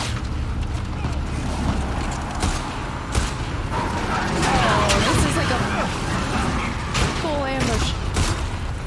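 Gunfire in The Last of Us Part II, with scattered booming shots and thuds under a busy game soundscape and a few sharp whistling sweeps.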